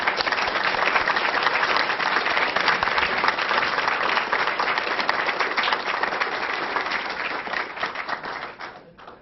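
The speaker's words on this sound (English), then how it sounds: "Let's have a round of applause, Paul." Sustained applause from a large audience at a school board meeting, dense steady clapping that fades slightly toward the end.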